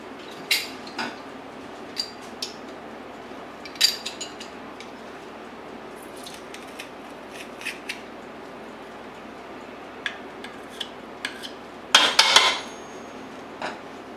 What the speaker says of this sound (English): Just using a garlic press here and then scraping it off with a knife.